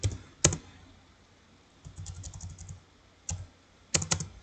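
Typing on a computer keyboard: a few short bursts of key clicks separated by quiet gaps, close and fairly soft, with no talk over them.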